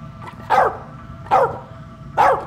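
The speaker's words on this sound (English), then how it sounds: "Dog sees something." A dog in the video game As Dusk Falls gives three sharp, close barks at a steady interval over a low background rumble, with no talk.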